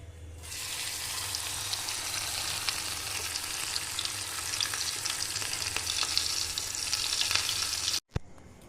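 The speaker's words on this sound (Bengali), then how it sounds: "এবার আমি লেগ পিসগুলো আস্তে আস্তে করে আমি ডিপ ফ্রাই করে নেব।" Chicken leg pieces deep frying in hot oil for a KFC-style fry, giving a loud, steady, crackling sizzle that holds throughout, then cuts off abruptly near the end.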